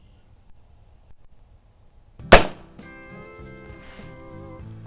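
A single sharp report from a Webley & Scott Hawk MK III air rifle firing a pellet at a range, loud and close, followed by a lingering ringing tone as it fades.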